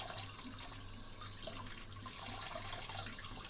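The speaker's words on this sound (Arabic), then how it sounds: "لو مش تحت ميه مش هينفع يتقلب، لازم تبقى ميه سايبه كده" Tap water runs steadily over mumbar being washed by hand in a sink, a soft continuous splashing with slight shifts as the casing is handled.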